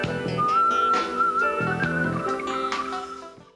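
A bright, sustained melodic whistle by a female soul singer carries the tune over a full instrumental backing in a song, then fades out near the end.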